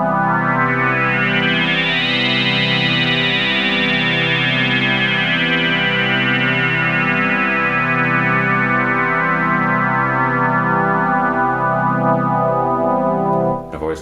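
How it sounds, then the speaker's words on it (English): A Casio CZ-1 synthesizer plays its resonant saw waveform through a Dreadbox Erebus analog filter, sustaining a loud, buzzy drone with a slowly sweeping, pulsing resonance that holds steady for the whole stretch before cutting off abruptly. "Casio has these 3 really cool resonant waves, or emulating resonance. Resonant saw, resonant sine, and resonant trapezoid maybe."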